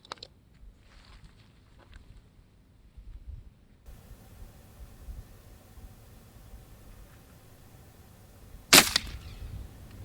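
A Gauntlet .25 air rifle fires at a target once, a single sharp crack late in an otherwise quiet outdoor stretch with faint background noise and a small click near the start.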